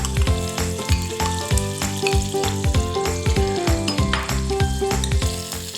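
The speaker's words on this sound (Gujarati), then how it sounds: "હવે આપણે ટમેટાની ગ્રેવી એડ કરી દઈશું." Tomato gravy stirred into onion gravy already frying in oil gives a loud, steady sizzle that runs unbroken for several seconds, with no talking.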